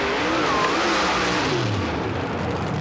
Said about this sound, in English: This 64 Corvette funny car out of Buchanan, Michigan sports a 525 cubic inch Keith Black Hemi engine